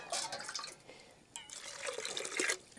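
Water splashes and gurgles as it is poured into a pot of chopped tender bamboo shoot pieces for boiling, a faint, uneven pouring with a brief gap in the middle.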